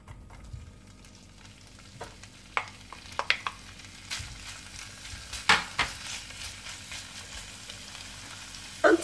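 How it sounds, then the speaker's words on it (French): Diced ham fries in hot olive oil in a pan, a soft continuous sizzle broken by scattered spatters and scraping stirs, close and fairly quiet, with no voices. "l'huile est chaude, j'ajoute mon jambon"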